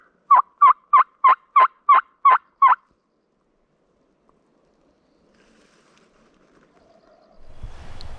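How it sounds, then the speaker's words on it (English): A wild turkey gobbles once in Oregon: a quick rattling burst of about eight rapid notes, fairly close, followed by near silence and then some low rumbling noise. "we just heard one gobble"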